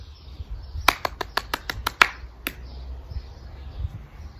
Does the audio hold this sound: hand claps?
yes